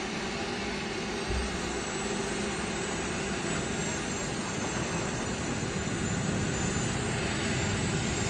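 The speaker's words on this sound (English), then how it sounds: "the legendary de Havilland Vampire" A de Havilland Vampire jet flying at an air show, heard as a continuous loud, broadband roar that holds steady without letting up.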